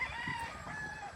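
A rooster among many gamefowl kept on a farm crows once, faint and distant, over a low steady background.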